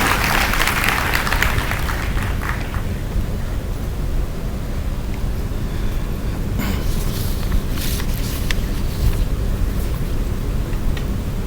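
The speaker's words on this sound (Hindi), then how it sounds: "मुख्य अतिथि उद्बोधन हेतु श्री राजशेखर जी से जोरदार तालियों के बीच उनका स्वागत करें, अभिनंदन करें।" A large audience at a university Gyan Diksha ceremony in Haridwar claps loudly and steadily, a dense wash of applause that fills the whole stretch without a break.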